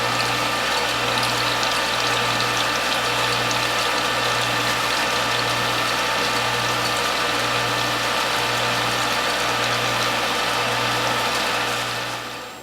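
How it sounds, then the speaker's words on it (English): A juice press hums loudly and steadily with a faint rhythmic pulsing while it re-presses spent pumpkin pulp, and it fades slightly at the very end. "repackage it and press it again and see if we can get any more juice out of this pumpkin"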